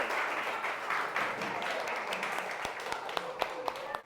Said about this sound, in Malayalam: എല്ലാവരും ഒന്ന് ക്ലാപ്പ് ചെയ്യൂ